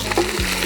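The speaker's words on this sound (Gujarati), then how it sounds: "તેલથી વઘાર કરવાનો." Spices, bay leaf and ginger tempering in hot oil for a Gujarati vegetable khichdi, a brief sizzling burst heard up close.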